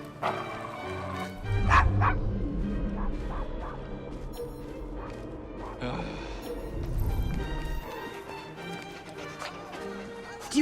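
A dog barks repeatedly in the Victorian London setting of the video game Assassin's Creed Syndicate, with sharp yips and barks scattered over busy street ambience and background music, moderately close.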